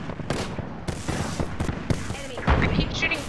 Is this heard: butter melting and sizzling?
no